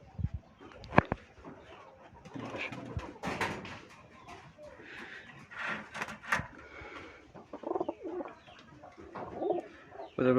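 Rajshahi Giribaz pigeons, a colour-matched breeding pair, coo softly in a quiet setting with several low, rolling calls spread across the stretch and faint background rustling.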